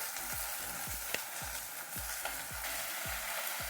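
Malabar spinach goes into a pan where Bengali bata fish is frying, giving a steady close sizzle with a run of regular stirring scrapes and no speech.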